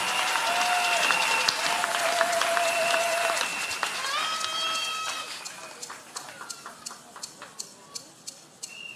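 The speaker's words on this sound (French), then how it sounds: "Est-ce que vous pouvez acclamer pour cela?" Inside a church, a congregation breaks into loud, dense applause mixed with shouts and cheering, then the clapping thins into a handful of scattered, separate claps.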